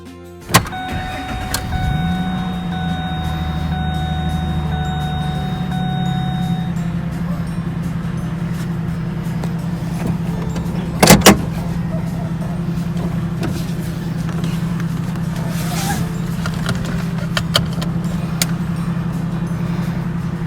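A 2005 Ford Ranger Super Cab 4x4 pickup cranks and fires up, then settles into a steady, low, slightly throaty idle that runs on continuously, with a brief thump partway through.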